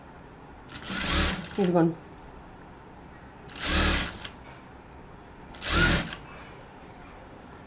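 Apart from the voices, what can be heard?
sewing machine stitching a blouse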